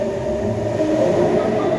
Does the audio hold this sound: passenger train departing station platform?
yes